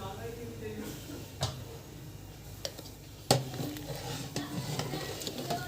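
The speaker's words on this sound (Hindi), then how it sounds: "साथ ही हमें इसे चमचे से भी चलाते रहना है।" A spoon stirs and scrapes through milk cooking for traditional kheer in a pot, producing soft swishes with several sharper clinks against the pot rim, close and moderately quiet, with faint background sounds.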